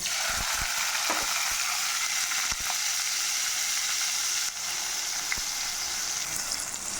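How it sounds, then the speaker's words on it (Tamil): Onions and green chillies fry in oil for a chicken kurma, giving a steady, bright hiss of sizzling with occasional scrapes and knocks from stirring, close and continuous without talking. "வெங்காயம் நல்லா பொன்னிறமாக வதங்கி வரட்டும், அது வரைக்கும் நல்லா வதக்கிக்கலாம்."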